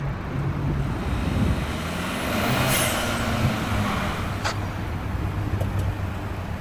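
Turbocharged 2025 Ford Maverick Lobo pickup driving in normal mode, with a continuous engine and road rumble under a rising turbo whoosh and hiss, plus a brief sharp high sweep midway and no speech.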